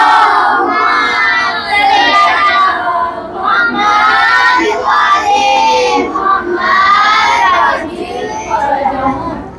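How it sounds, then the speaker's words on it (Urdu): A large crowd loudly recites salawat in unison at a religious gathering, a dense chorus of many voices rising and falling in repeated phrases for about ten seconds. "محمد والے محمد بلند تر صلوات"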